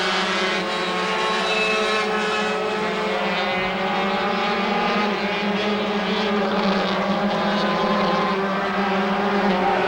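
Several 125cc racing machines run on the Silver State Raceway, making a continuous high, whining engine drone with layered overlapping tones, loud and steady for the whole stretch as the pack battles on track.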